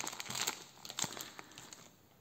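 A plastic bag crinkles and rustles softly at close range, with a few sharper crackles early on that fade to quieter handling.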